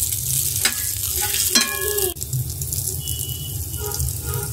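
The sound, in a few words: hilsa fish roe frying in spiced oil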